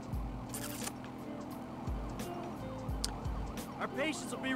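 Police sirens wail in GTA V, layered with game engine and traffic noise and heavy low rumble, while a person talks over much of the stretch.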